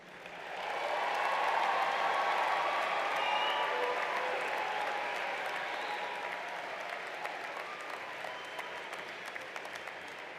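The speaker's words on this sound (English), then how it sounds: "Let's give all the new graduates another round of applause and a really big cheer" Sustained applause from a large commencement crowd honoring new college graduates, a dense wash of many hands clapping that rises quickly, holds steady for several seconds, then eases slightly while continuing.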